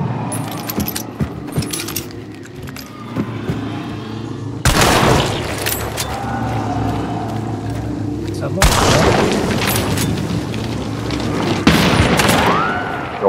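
Gunfire in the video game Hunt: Showdown, with loud broadband bursts of shots around 4.7 and 8.7 seconds, and a sharper crack near 11.7 seconds, over a constant game ambience and voices.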